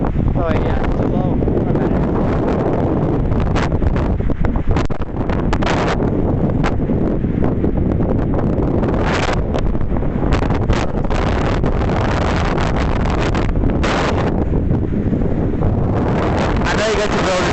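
Wind blows hard and steadily across the microphone on a windy day outdoors, a loud continuous rumbling buffet with gusts that swell and fade, and voices may be faintly mixed in.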